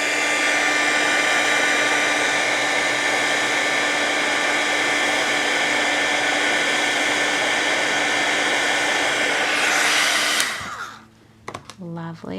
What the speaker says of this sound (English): Tip this with my heat tool until it's smooth and melted.